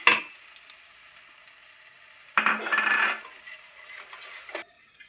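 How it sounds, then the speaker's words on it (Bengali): Spice paste of ground cashew, white sesame, tomato and onion stirred in a pan for chicken kabab afgani, giving faint sizzling and scraping, with a louder burst of stirring and frying for about a second midway and small clinks near the end. "এটা দিয়ে আরেকটু নাড়বো।"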